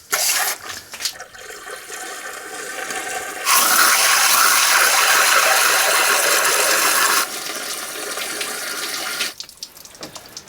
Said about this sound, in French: Donc je vais tout simplement prendre de l'eau et puis l'injecter ici sur les bords des cylindres.